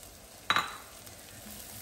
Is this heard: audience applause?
no